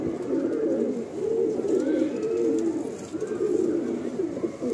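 Inside a pigeon loft, overlapping coos from many birds form a steady rolling drone, loud and near, with a few warbling rises and no voices.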